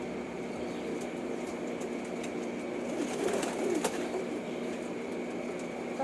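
Pigeons coo softly in a quiet coop or loft, the calls faint and distant against a steady background hum, with a short rustle partway through.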